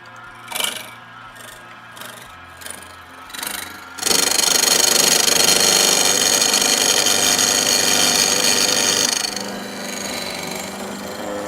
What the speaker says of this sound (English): I've got an angle grinder right there